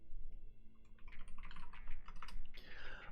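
Quick, close keystrokes clatter on a computer keyboard in an irregular burst, faint but clear, with no talk.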